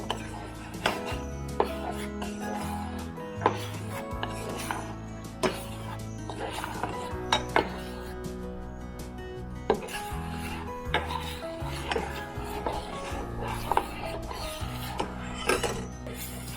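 Milk with a little ground cardamom being stirred in a pot for homemade ice cream: repeated scraping and clinking of a spoon against the metal, quiet and irregular, with short gaps between strokes.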